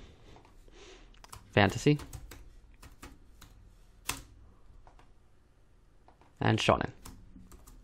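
Close computer keyboard typing, with a broken shift key, comes in short bursts of sharp clicks and a few isolated taps, interleaved with a person's speech.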